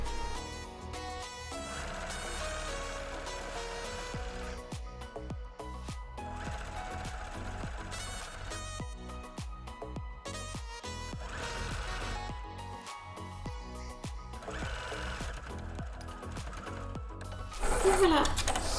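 A sewing machine stitches a seam in bursts of rapid, rhythmic mechanical clatter, fairly quiet and close, with short pauses between runs and a brief louder handling noise at the end.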